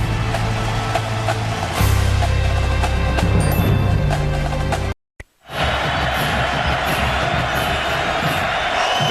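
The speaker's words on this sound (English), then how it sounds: "Crowd here trying to inspire the Virginia Tech defense on 3rd and 11 as we start the second quarter." A Lane Stadium football crowd roars on a chilly night to spur the Virginia Tech defense against Clemson, a loud, sustained wash of cheering that briefly cuts out midway before resuming.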